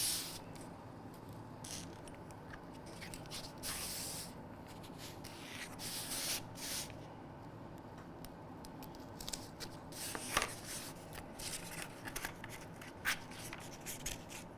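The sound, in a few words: drawing around a template on plastazote foam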